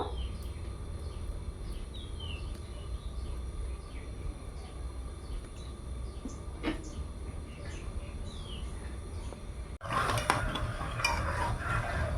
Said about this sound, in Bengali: নাড়তে নাড়তে চিনিটা জলে গুলে যাবে মিষ্টির রসটা ভালোভাবে করে নিতে হবে